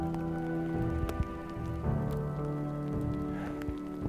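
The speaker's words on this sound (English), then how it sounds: "This rain feels amazing right now." Steady rain falling outdoors during a bull elk hunt, a continuous patter of drops with scattered sharper taps on nearby surfaces and a faint tonal hum underneath, with no voices.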